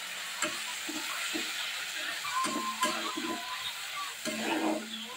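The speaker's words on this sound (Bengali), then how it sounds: "সামান্য একটু জল দিয়ে দিচ্ছি, দিয়ে মশলাটা ভালো করে কষে নেব।" Spice paste for a red meat curry fries in a pan after a splash of water, making a faint, soft sizzle with light stirring taps and scrapes throughout.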